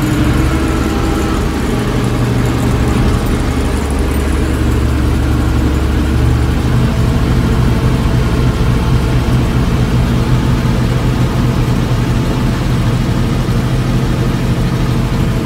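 A 1988 Ford F700 dump truck idles steadily with its power take-off engaged, a loud, continuous low diesel rumble throughout with no talk.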